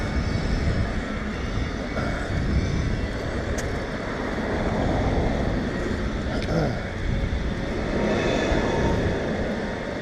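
A bus engine runs steadily in China, a continuous low rumble filling the whole stretch with vehicle noise, with some background voices faintly mixed in.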